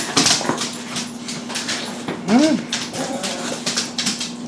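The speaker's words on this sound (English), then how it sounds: "Little brown dog wants some meat too." A small brown dog whimpers briefly around the middle, a short rising whine amid people talking and some background hum.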